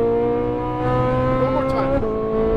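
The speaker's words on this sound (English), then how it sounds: "A little throttle. More throttle. To the left, to the left. Come on, come on. Full throttle. Upshift." A Ferrari 458 Italia accelerates at full throttle, its engine note climbing loud and close before a quick upshift drops the pitch around the two-second mark, with a voice talking over it.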